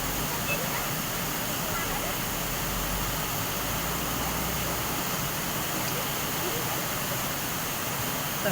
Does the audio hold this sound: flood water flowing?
yes